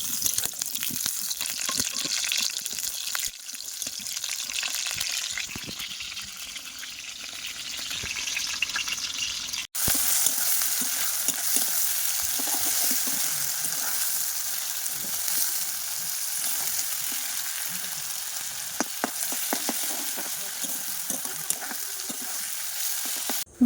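Pabda fish jhal curry cooking in a pan, a continuous broad sizzle and bubbling hiss that runs unbroken for a long stretch, close by, with faint utensil sounds and no talking.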